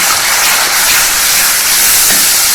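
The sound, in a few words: tomato puree added to a hot cooking pan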